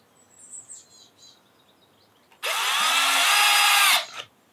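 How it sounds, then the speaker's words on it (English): A power drill drives a screw into a wooden bug hotel in one whirring burst of about a second and a half, with faint birdsong outdoors before it. "So we'll get these last screws in here"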